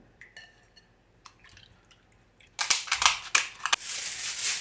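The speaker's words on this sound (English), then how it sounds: "I wanna rinse off the salt with water and vinegar" A few faint drips and taps, then running water splashes loudly over salted jack and Pacific mackerel fillets being rinsed in water and vinegar, a steady rushing stream with clattering bursts.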